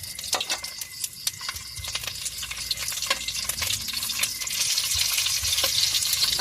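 Spices frying in a hot pan: a close, steady sizzle with crackling pops and stirring clatter, growing slightly louder toward the end, with no talk over it.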